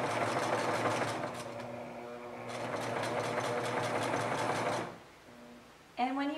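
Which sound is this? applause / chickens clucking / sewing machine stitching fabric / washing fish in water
sewing machine stitching fabric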